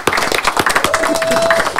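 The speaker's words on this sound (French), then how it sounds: "Je pense qu'on peut applaudir l'arrivée de Kenny," A short burst of scattered clapping from a small studio audience on a live football debrief show greets someone's arrival, with a faint tone running under the later claps.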